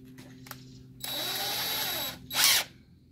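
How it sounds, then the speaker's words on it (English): Power drill for a screen door install whirring in a steady high-pitched burst of about a second, followed by a short louder rev, with quiet handling noises before. "have a drill that you could attach a drill bit to"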